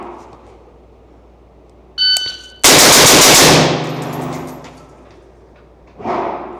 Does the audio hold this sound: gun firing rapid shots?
yes